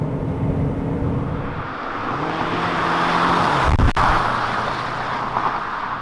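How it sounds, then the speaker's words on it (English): A 2019 Kia Cadenza hybrid sedan accelerating hard with engine and electric motors working together, a rising engine drone with a steady low hum and road rumble heard from inside the cabin, swelling midway before settling. "when you do put your foot down, both engine and motors are working hard together to push the car"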